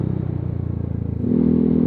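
Yamaha Aerox 155 scooter with a Proliner aftermarket exhaust idling, a close, loud, even low putter that thickens into a steadier drone near the end.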